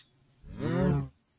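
A cow moos once in the Minecraft modpack Enigmatica 6, a single drawn-out low call lasting about half a second, moderately close and alone over quiet background.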